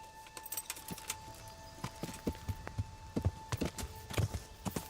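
Video game horse hooves clip-clop in an irregular trotting rhythm, fairly faint and close, with a steady faint tone underneath.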